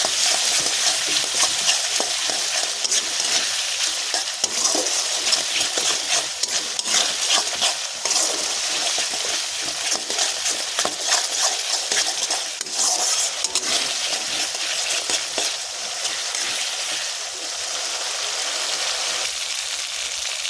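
Katla fish with potol and potatoes sizzling steadily in a pan after two spoons of sour yogurt go in, with continuous loud frying hiss and stirring scrapes throughout, no talk.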